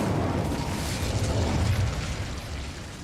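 Incendio fire spell cast in the Hogwarts Legacy video game: a sustained, loud whooshing, crackling burst of flame with a deep rumble, steady for about three seconds before easing slightly at the end, with no talk over it.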